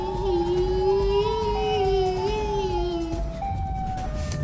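Siren Head, a monster in a video game, wails with a loud wavering siren tone that slides and dips before cutting off, followed by a quieter second siren-like line.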